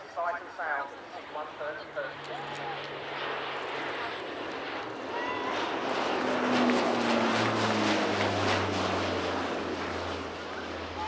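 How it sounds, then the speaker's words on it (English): An RAF Hercules turboprop transport makes a fly-through at the Cosford Air Show, its engine drone swelling from a distant hum into a loud, sustained roar that peaks as it passes, with scattered voices nearby early on. "And now the fly-through by the Hercules."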